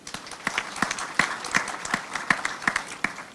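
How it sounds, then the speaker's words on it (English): Audience at a gender-inclusion-in-logistics event claps for women drivers, a thin scattering of distinct handclaps in a loose, uneven rhythm, moderately close with a hum of room noise behind. "Can we clap for them?"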